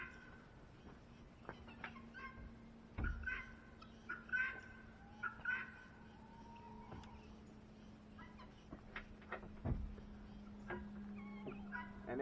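Chickens cluck and murmur in a straw-bedded chicken coop, soft scattered calls with a few sharper squawks over a steady low hum, no talk.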